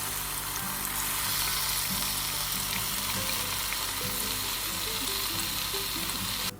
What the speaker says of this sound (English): Heat oil in a medium hot pan. Add the onion green chilli paste.